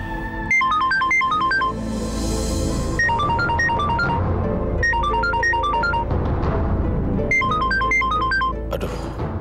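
Mobile phone ringtone of an incoming call, a bright repeating melodic tune playing in bursts over a steady background, with no talking.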